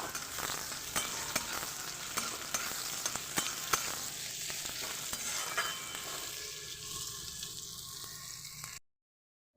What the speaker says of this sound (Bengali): পেঁয়াজ কুচিগুলো দিয়ে আমি ভেজে নেব